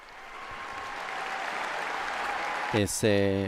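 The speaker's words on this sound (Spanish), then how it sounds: "Es este aplauso extensivo con el cual y caluroso con el cual reciben al Santo Padre." More than 11,000 young people in a large sports centre in Budapest applauding as they welcome Pope Francis, a broad distant wash of clapping that swells gradually before a voice cuts in near the end.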